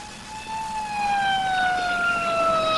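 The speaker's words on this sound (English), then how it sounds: "Sounds like an ambulance." An ambulance siren on a 1970 highway, wailing steadily and loud with a slowly falling pitch as it passes nearby, with no voices over it.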